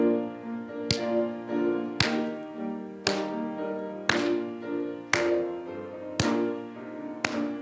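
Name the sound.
church congregation clapping along to a hymn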